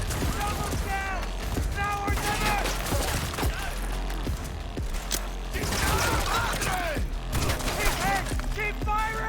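Sustained gunfire in Cyberpunk 2077 crackles in overlapping, rapid volleys, with louder shots punching through a steady din while a voice talks over the fighting.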